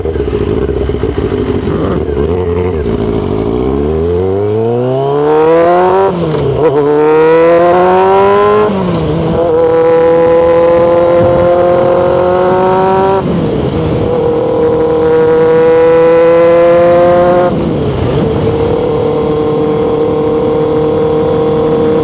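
A carbureted 1999 Kawasaki Ninja ZX6R motorcycle is ridden up through the gears, its engine loud and close, screaming higher with each hard rev before dropping at every shift, repeated several times.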